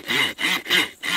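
A Walther MSM survival machete's built-in saw cuts through a wooden workpiece in four quick, even back-and-forth strokes, rasping loudly and close up with no voices.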